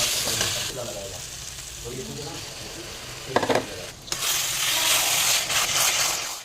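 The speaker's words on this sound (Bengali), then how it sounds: "ভালো করে মশলাটাকে কষিয়ে আমি এর মধ্যে বেগুনটাকে দিয়ে দেবো" Tomato masala with Kashmiri red chilli, turmeric and salt fries steadily in a pan with a broad hissing sizzle, broken by a few scraping stirs and clatters of the spoon midway; no talking.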